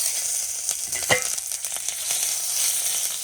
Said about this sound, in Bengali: তেল গরম হয়ে গেছে, তেজপাতা দিয়ে দিচ্ছি, আর কালো জিরে ফোড়ন দিচ্ছি। কাঁচা লঙ্কাগুলো দিয়ে দিচ্ছি।